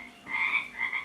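A single frog croak played from a phone app, a short raspy two-part call heard close and alone.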